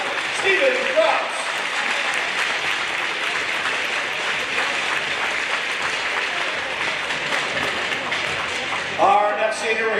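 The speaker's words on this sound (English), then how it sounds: "let's have a nice round of applause for number 25, Steven Krause" A steady, sustained wash of audience applause at an ice hockey game honouring a senior player, filling the whole stretch at even loudness, with an announcer's voice briefly at the start and returning at the end.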